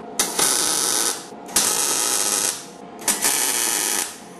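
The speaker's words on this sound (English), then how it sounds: "Now more welding. I need to get this other side too." Three long, harsh buzzing bursts from arc welding on homemade metal foundry crucible tongs, each lasting about a second with short pauses between, loud and close with no talking.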